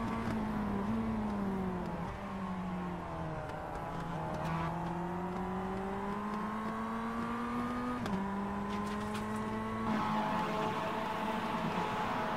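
Mazda MX-5 engine in a sim racing game on the Tsukuba Circuit, a steady loud drone that climbs and falls through the gears, with sharp shifts near 2, 4, 8 and 10 seconds, heard alone with no talk.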